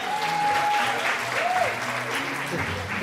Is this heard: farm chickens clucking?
no